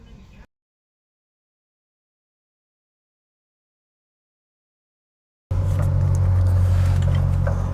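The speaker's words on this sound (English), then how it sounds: "let's start driving and see how it is to drive on CNG as well as petrol" A 2015 Honda Amaze CNG with a 5-speed manual gearbox, its engine heard as a steady low in-cabin drone that starts abruptly after a long silence.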